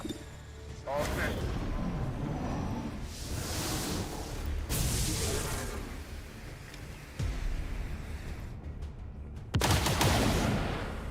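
Gunfire and explosive bursts from the XCOM 2 game, with several loud shots and whooshing blasts separated by brief lulls, mixed with a voice talking.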